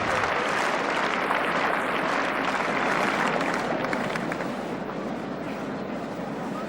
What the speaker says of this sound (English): tremendous applause for them